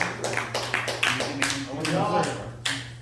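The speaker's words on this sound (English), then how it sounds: "Keep clapping for Joe." Audience applause at a stand-up comedy open mic at a market in Valparaiso, Indiana, with scattered claps and taps rising and falling over a steady low hum, while a host speaks over the clapping.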